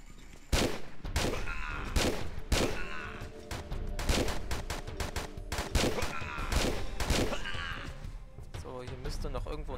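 Gunshots ring out in the Tomb Raider 3 video game: a rapid series of sharp, loud blasts at uneven intervals across the stretch, with game sounds between them and a few quieter moments near the end.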